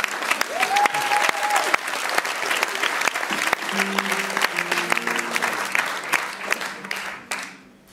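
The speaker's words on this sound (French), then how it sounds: "applaudissements." Sustained applause from a live audience at a poetry venue concert fills the whole stretch, steady and dense, then fades at the end, with no speech over it.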